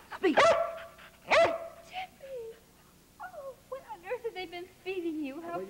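A dog barks on command, two sharp loud barks close by, followed by softer whimpers and yips mixed with people talking.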